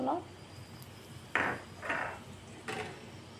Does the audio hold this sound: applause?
no